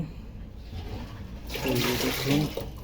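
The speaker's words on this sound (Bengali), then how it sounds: "চিটাগুলো লেগে আছে সেটা আবার সুন্দর করে ধুয়ে ধুয়ে আমি দিয়ে দিচ্ছি" Fermented corn being washed in water, a continuous soft sloshing and trickling that grows louder and fuller halfway through, with splashing close by.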